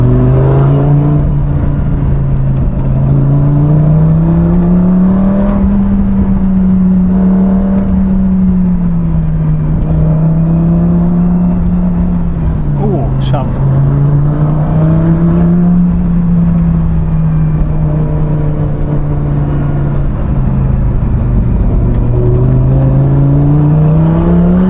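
Lamborghini Gallardo engine droning steadily at close range from inside the car on a winding road of hairpins, the pitch rising and falling gently as revs change, with no talking.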